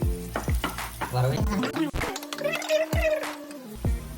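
Small shallots sauté in a pan for chicken curry, a close frying sizzle broken by stirring scrapes and utensil clinks, with a person talking over it.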